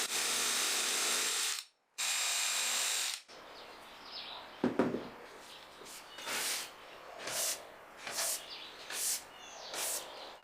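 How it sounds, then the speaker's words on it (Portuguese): A handheld electric drill bores holes into wood in a home workshop, in place of a bench drill. Two loud sustained whirs come first, then a run of shorter, quieter bursts and clicks. "não pude usar minha furadeira de bancada e precisei usar uma furadeira manual"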